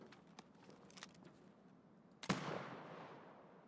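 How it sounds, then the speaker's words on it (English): A flare fires in a video game with a single sharp, loud crack and a hissing tail that fades out, heard after a few faint lighter pops. "we'll shoot the flare out."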